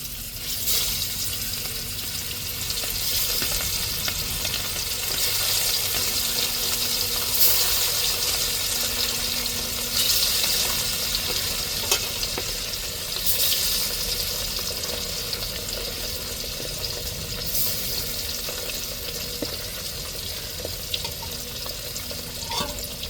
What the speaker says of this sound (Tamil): இப்போ வால் பகுதியில் அப்படியே பொரிச்சு எடுத்துருவோம்